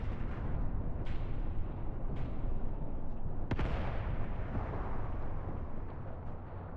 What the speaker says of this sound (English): Yes, that is a beautiful smoke barrage.